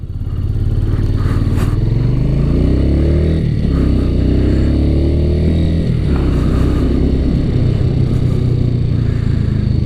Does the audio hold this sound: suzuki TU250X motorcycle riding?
yes